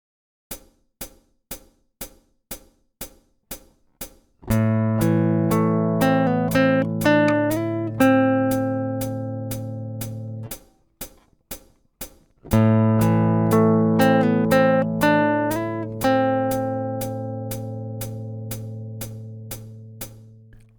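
Steady metronome clicks tick throughout while a plucked guitar phrase from a song rings out twice, each time sustaining and slowly decaying, with no talking.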